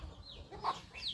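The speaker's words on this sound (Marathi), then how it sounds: "आमची सगुना निघली पिल्ले घेऊन बाहेर" A hen clucking softly while out with her seven chicks on a rural homestead, quiet and close, with a few short clucks and faint chick peeps.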